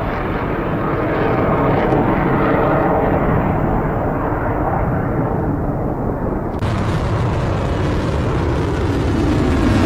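Roaring fighter jet during an Iranian attack on Israel, a loud continuous broadband rumble that holds steady throughout and swells brighter and harsher near the end, with no voices.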